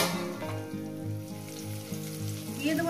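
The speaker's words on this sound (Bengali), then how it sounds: "2-3 মিনিট ধরে আমি পেঁয়াজটাকে সুন্দর করে ভেজে নেব" Chopped onion fries in oil for an egg curry, a steady soft sizzle with faint stirring scrapes, sitting under a low rhythmic hum, fairly quiet and continuous throughout.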